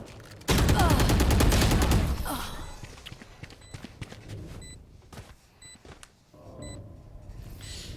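Rapid automatic gunfire from a Valorant competitive round on the Haven map bursts loud and continuous for about a second and a half, then fades into scattered shots, footsteps and faint game cues.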